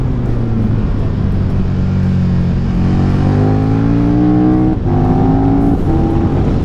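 A KTM 1290 Super Duke GT motorcycle with loaded panniers climbs the Stelvio Pass, its loud engine note rising under acceleration and then breaking briefly as it shifts gear before pulling up again.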